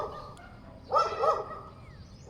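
A dog gives a short run of barks, close and fairly loud, in a quiet rural yard with no talking.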